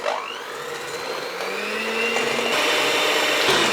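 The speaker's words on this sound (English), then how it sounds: "I will whisk the eggs and the sugar together until they're light and fluffy." Eggs and sugar are whisked together in a mixing bowl, giving a steady, close whirring drone that holds for about four seconds and grows slightly louder toward the end.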